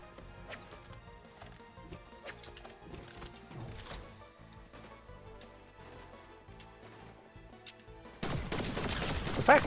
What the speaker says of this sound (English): Gunshots over here.